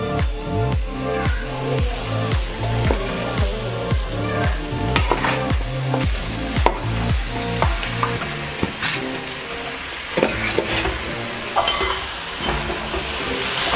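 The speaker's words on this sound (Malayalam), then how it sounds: "നമുക്കിനി ചിക്കൻ ചേർക്കാം" Chicken pieces hit hot tomato masala for Malabar chicken chukka and sizzle and fry steadily, with repeated stirring scrapes and rhythmic clatters in the pan up close, no voices.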